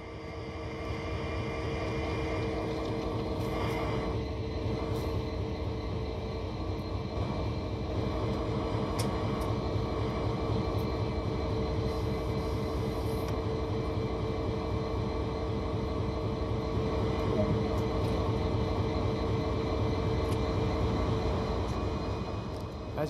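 A CSX diesel locomotive in Train Sim World creeps slowly onto a turntable, its engine droning steadily with a low throb and a sustained tonal hum, and faint clanks now and then over the constant rumble.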